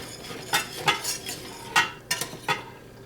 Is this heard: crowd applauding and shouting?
no